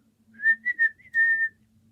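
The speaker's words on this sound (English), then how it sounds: "Try whistling." A person whistles a short, bright tune of several notes in two quick phrases, close and clear in a quiet room, with no talk over it.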